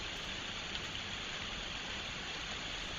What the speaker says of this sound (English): Heavy rain here in Ukraine today.